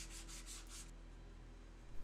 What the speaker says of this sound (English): then sanding with 220 grit,